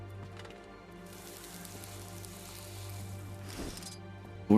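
Cooking fire sizzling in Guild Wars 2, a faint steady crackle and hiss under a low hum, continuous with a brief louder burst near the end.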